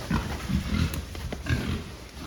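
A farm pig being fattened grunts in short, low bursts, close to the microphone over a steady barn background, with no talk.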